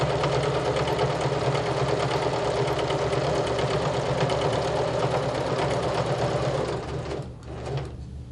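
A sewing machine runs steadily, stitching fabric along a seam with a continuous close mechanical whirr and rapid needle chatter, then slows and stops near the end.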